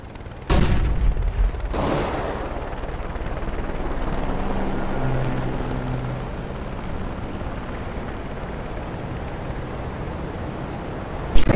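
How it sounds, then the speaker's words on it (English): A flashbang pops in the CS:GO video game, followed by loud gunfire and booming blasts. A long rumbling, ringing wash trails away afterward, and another sharp burst comes at the very end. "Throwing flashbang."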